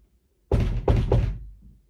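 Three heavy knocks on a locked door, up close and loud, coming in quick succession after a moment of quiet and dying away with a boomy resonance.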